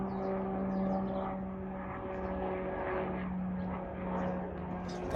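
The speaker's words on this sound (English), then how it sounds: "That plane sounds really weird." A propeller airplane with an odd rear-prop sound passes overhead, giving a faint, steady drone with a low hum and a slowly wavering pitch, and no voices.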